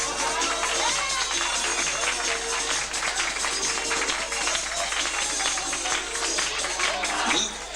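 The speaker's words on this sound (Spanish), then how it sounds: "Un aplauso para ellos." An audience at a participant introduction event applauds a family taking part, a dense, sustained wash of clapping and crowd noise that fills the whole stretch at steady loudness.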